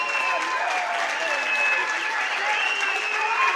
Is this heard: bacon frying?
no